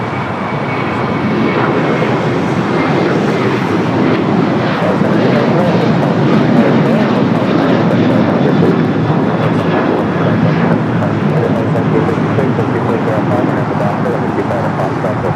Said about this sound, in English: the delayed Qantas Dreamliner, Flight 15, coming up from Brisbane